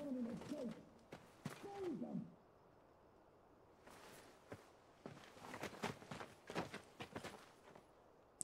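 Bird calls inside the video game Final Fantasy XVI, a few short chirping and cooing notes near the start, then scattered sharp ticks and clicks like footsteps, with a quiet gap in the middle.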